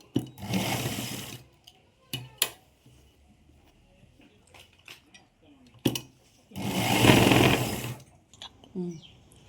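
Sewing machine running in two long bursts as it stitches a pant seam, with short taps and handling clicks between runs and a voice speaking briefly in the gaps.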